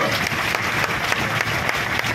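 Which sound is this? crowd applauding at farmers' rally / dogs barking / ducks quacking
crowd applauding at farmers' rally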